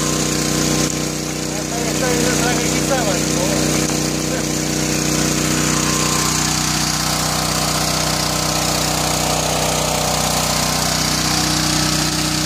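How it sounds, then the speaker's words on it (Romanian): A motor pump engine runs steadily at close range, a loud continuous drone with a buzzing mechanical hum that holds for the whole stretch. "Da, forțează motopompa."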